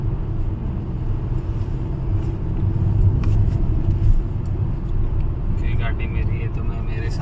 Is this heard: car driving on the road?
yes